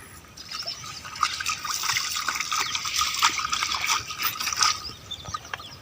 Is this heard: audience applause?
no